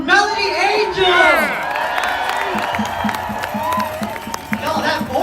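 A crowd at an outdoor "No Kings" protest rally in Chicago cheers, whoops and claps after a singer's performance, with loud shouts rising over steady applause, then rhythmic clapping continuing as the noise settles.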